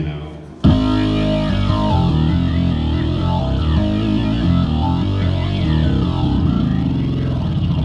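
A deep, thick Korg keyboard synth tone with heavy distortion kicks in suddenly and churns on loudly and steadily, with shifting very low notes.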